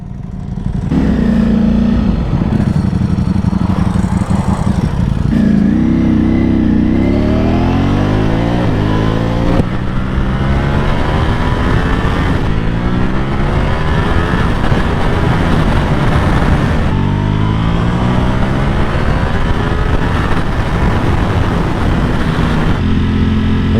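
A Ducati Panigale V4 SP2 sports motorcycle is ridden hard, its engine loud and close, revving up through the gears again and again with rising pitch and brief dips at each shift.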